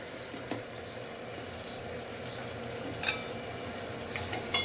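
Tomatoes sautéing in a pan for dal baati give a steady, close, soft sizzle, a continuous broad hiss with a few faint clinks and no voices.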